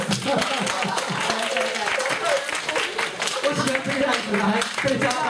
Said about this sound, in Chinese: 来，老婆跟鼓掌一下，快点！